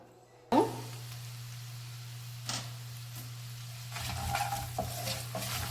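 Bisi bele bath masala powder roasts in hot ghee in a home kitchen in Bangalore, giving a steady low sizzle with a few scraping stir strokes, and a constant hum running underneath.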